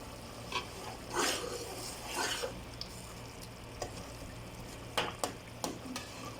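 Bread pieces for furfur frying in a pan, a constant low sizzle broken by several sharp scraping stir strokes and clinks, close and fairly quiet, with no voices.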